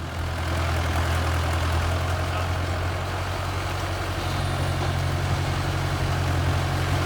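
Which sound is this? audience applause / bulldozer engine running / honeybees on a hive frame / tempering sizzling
bulldozer engine running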